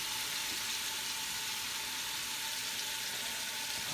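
Beef searing in a pot for a vegetable soup gives off a steady, broad sizzle and frying hiss that stays close and even throughout, with no talk over it.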